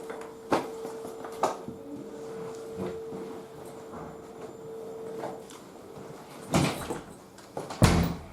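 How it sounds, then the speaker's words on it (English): A door is shut during an emergency training scene, with several sharp knocks and thuds spread across the stretch and the loudest impacts near the end, over a faint steady hum and no talk. "will shut the door"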